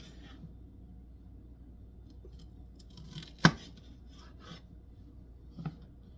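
A knife slices peppers into big, thick pieces, with one sharp cut near the middle and a lighter one toward the end over a faint, quiet background rasp.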